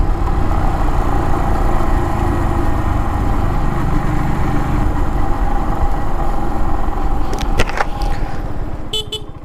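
Kawasaki W175 motorcycle engine droning steadily in fifth gear at road speed, loud and constant with wind rush, a couple of short chirps near the end.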